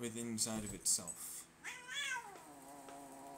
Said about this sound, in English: That is my dog and cat fight